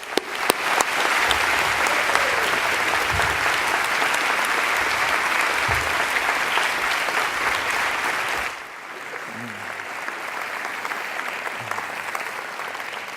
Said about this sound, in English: join me in giving the most recent graduates from the Faculty of Health Sciences and Medicine and the Faculty of Society and Design an exciting round of applause